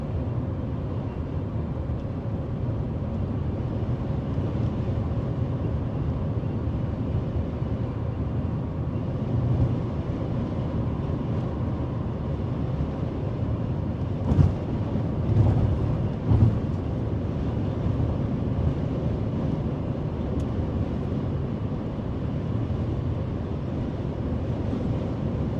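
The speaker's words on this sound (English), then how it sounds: "My God, this wind is just nuts." Strong, steady wind roars during a storm chase on a day of tornado-outbreak forecasts, a dense, continuous rush with a few brief gusts and buffets near the middle and no pauses throughout.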